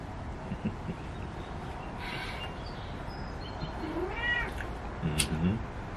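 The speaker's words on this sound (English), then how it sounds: "Purring kitty." A pet cat gives a few soft meows over a low, continuous rumbling background, close but faint, with brief quiet sounds of movement nearby.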